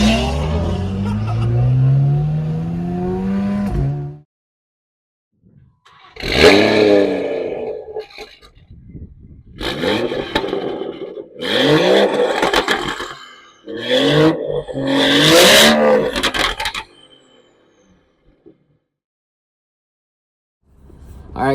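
A BMW F30 340i with the B58 engine revs in loud, rising bursts, held and cut off several times, with short silent gaps between pulls.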